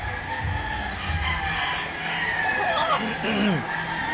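A gamefarm rooster, a brood stag shown at a gamefowl expo, crows loudly nearby alongside clucking fowl, with faint voices in the background.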